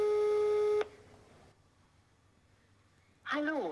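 A phone call goes unanswered, with a steady electronic tone for under a second, a quiet gap, then a short burst of speech at the end.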